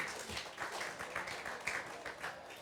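Applause from the audience at a youth book prize ceremony, a faint, steady patter of clapping lasting a few seconds as the winners are called to the stage.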